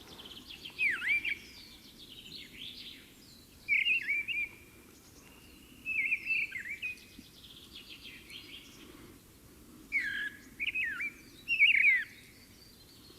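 Mistle thrush song from a high perch in Monkstown: several short, fluty whistled phrases with pauses between them, fairly near, over a steady low rumble of background traffic.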